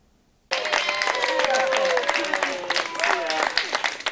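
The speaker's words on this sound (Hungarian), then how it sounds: "Tapsviharral köszöntötték a jótifuti résztvevőit a Dunaújvárosi Jószolgálati Otthonban." Steady applause erupts after a brief quiet and sustains for several seconds, welcoming charity fun-run participants at the Dunaújváros Jószolgálati Otthon care home, with crowd voices mixed into the clapping.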